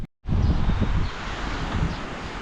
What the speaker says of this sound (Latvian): vējiņš te kalnā augšā tāds labs